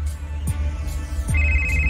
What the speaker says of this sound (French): Et le téléphone de Nathalie va sonner.